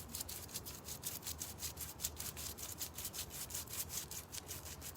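Sandpaper scrubs across a wooden table top in rapid, steady back-and-forth strokes, a close, even rasping rhythm that runs unbroken with no voices.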